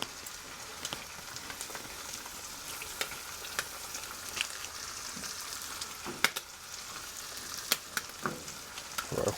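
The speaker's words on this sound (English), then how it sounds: "Let's add some butter." Butter sizzles on a Blackstone flat-top griddle beside eggs for croissant breakfast sandwiches, a faint steady frying hiss broken by scattered crackles and pops.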